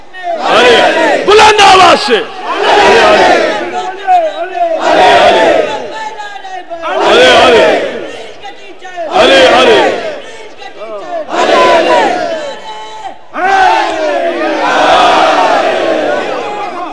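Mourners at a majlis shout together in loud unison, long swelling chants repeating about every three seconds, full and close with a crowded, echoing quality.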